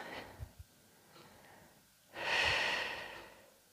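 A deep breath taken during a Pilates hip flexor stretch: soft faint breaths early on, then one long, full exhale that swells and slowly fades.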